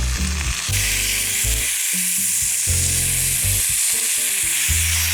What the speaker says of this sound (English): Got them in the beautiful steel pan. Searing hot.